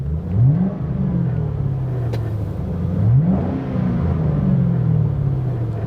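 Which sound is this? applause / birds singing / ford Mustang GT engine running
ford Mustang GT engine running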